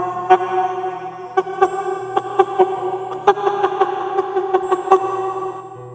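A voice mimics a hen's clucking, a string of short sharp clucks in an uneven rhythm over a soft tonal background, close and fairly clear.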